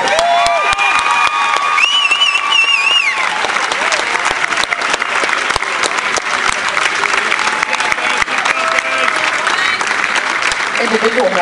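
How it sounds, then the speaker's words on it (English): Crowd applauding and cheering the Lutheran South Lancers baseball team at the 2012 MSHSAA Class 3 state championship ceremony, with sustained clapping throughout, scattered shouts, and voices talking over it. "Let's give a big round of applause for the Lutheran South Lancers."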